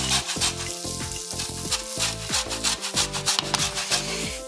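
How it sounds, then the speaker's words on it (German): An orange is grated for zest in a kitchen, giving rapid repeated rasping strokes that sound close and fairly loud, with a steady rhythmic scraping and no talking. "Gleichzeitig reibt Janine die Zeste, also die Schale einer Orange"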